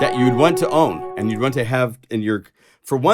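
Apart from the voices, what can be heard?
None of the usual background noises is heard.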